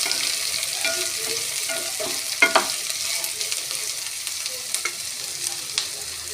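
Onions sizzle and crackle in hot oil in a pan, a steady soft frying hiss broken by occasional louder pops and a few stirring scrapes.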